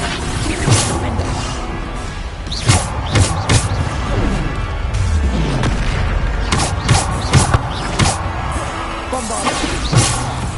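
Repeated Bombarda spell blasts in Hogwarts Legacy, a string of loud booming impacts and crashes scattered through a busy magical fight, mixed with whooshing spell casts and shouted incantations.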